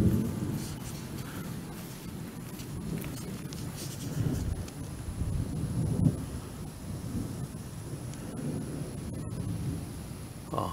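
Deep rolling thunder from a July thunderstorm rumbles loudly and steadily outdoors, with rain hissing in the background and no talk over it.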